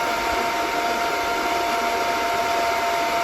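A DB Werx amplifier cooling fan running on an adjustable voltage regulator for speed control gives a steady, even whir with a faint tonal hum, constant and close for the whole stretch, with no talking.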